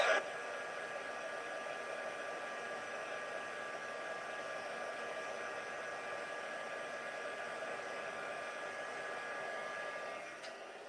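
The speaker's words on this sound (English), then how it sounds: "I am going to heat set that just in case I've got smudgies going on" Heat tool used to heat set ink on card: a steady, fairly faint blowing whir with a faint tonal hum, constant throughout and tapering at the end, with no one talking.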